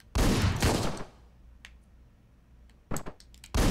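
Gunshots in the video game Hotline Miami 2: two loud close blasts, then a quieter stretch with small clicks and another sharp pair of shots at the end.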